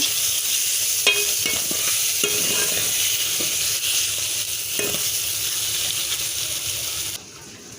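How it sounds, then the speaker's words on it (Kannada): Peeled orange segments fry in hot tempering oil with a steady sizzle, broken by a few sharp scrapes and clinks as they are stirred, until the hiss drops away near the end. "ಹಾಕ್ಬಿಟ್ಟು ಚೆನ್ನಾಗಿ ಒಂದ್ಸರಿ ಮಿಕ್ಸ್ ಮಾಡಬೇಕು ಇದು ಒಂದೆರಡು ನಿಮಿಷ ಒಗ್ಗರಿ ಎಣ್ಣೆಲಿ ಬೇಯಬೇಕು"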